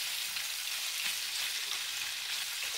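Roughly 2.5-pound beef pot roast searing in a hot pan for Irish beer pot roast stew, giving a steady, dense sizzle that holds even throughout, close and unbroken with no voices.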